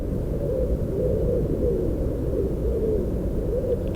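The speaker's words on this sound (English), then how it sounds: "And a wood pigeon in a nearby tree." A wood pigeon in a nearby tree gives soft, repeated cooing hoots in a steady rhythm, fairly faint above a constant low rumbling background.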